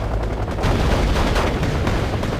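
Anti-aircraft Tunguska autocannon fire shooting down missiles in the WarGame: Red Dragon video game: a dense, continuous roar of rapid shots, loud and unbroken throughout, with no talking.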